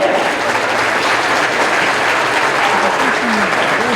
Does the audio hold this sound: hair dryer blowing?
no